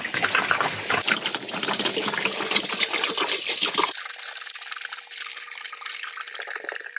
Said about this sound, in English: Let's fill it up with water.